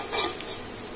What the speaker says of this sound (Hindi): एक से दो मिनट तक इसी तरह से चलाते हुए अपने आलू को भी फ्राई करना है